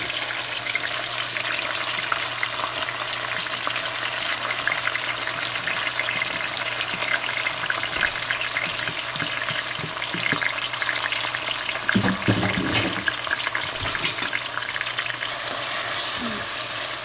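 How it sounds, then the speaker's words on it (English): Seasoning fries in hot oil in a saucepan, a dense steady sizzle and crackle up close that runs the whole time, with occasional scraping stirs and a brief clatter near the end. "I have placed a saucepan with oil, and now it's hot, so I'm gonna fry up my seasoning or saute them"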